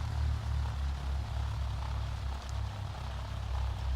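A propeller aircraft engine idles at 1000 RPM in a flight simulator, a steady low droning hum with a faint pulsing throb, continuous and even throughout.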